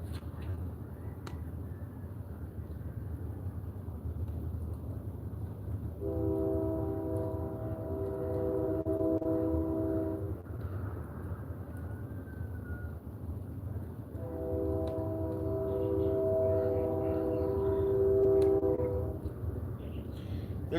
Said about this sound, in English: The train is coming. The train is coming.